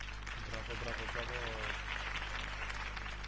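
A crowd applauds after a campaign speech in a Batman video game, a steady spread of clapping mixed with voices and a low background hum.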